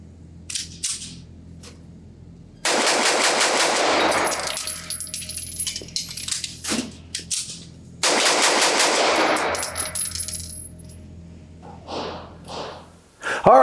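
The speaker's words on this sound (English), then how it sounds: "this gun definitely wants to be shot fast" Ported, Cerakoted Staccato P 2011 pistol fired rapidly at a range, two long strings of sharp, close, evenly spaced shots, each around two seconds, separated by quieter gaps with clinks and handling noise.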